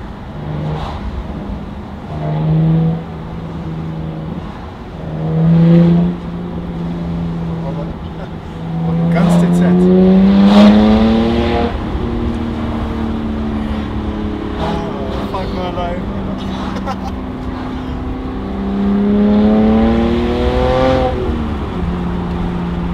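A BMW 325i with the N53B30 engine and a modified exhaust revs repeatedly in rising and falling bursts, loud and close, while people talk over it.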